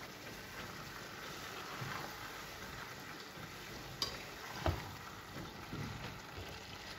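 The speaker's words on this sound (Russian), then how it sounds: "Все вместе аккуратно перемешиваем." Fried vegetables are gently stirred into a simmering sauce for an eggplant imam bayildi, giving a faint, continuous sizzle with soft scraping of the spoon in the pan and a couple of light knocks.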